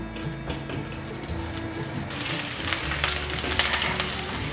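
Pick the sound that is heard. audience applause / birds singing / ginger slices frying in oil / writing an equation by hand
ginger slices frying in oil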